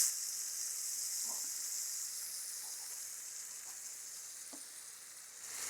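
Chopped tomatoes with turmeric and chilli powder frying in a pan for tomato ghee dal, a steady soft sizzle and hiss throughout with a few faint stirring clicks, no voices.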